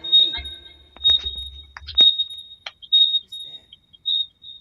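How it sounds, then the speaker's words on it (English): A high electronic beep repeats several times at a steady interval, sounding like a smoke alarm, while a voice talks intermittently over it. "Sounds like a smoke alarm."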